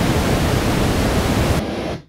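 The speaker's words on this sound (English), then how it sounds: "this is the pink noise that you would hear from your normal tone generator" Dense, steady pink noise from a tone generator, a full rushing hiss with more low-end weight than bright, continues evenly before cutting off abruptly.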